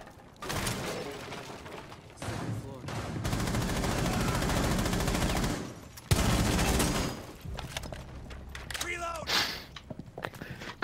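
Sustained automatic gunfire in a tactical shooter game, a long loud burst that breaks off and resumes, followed by quieter mechanical clatter and players' voices.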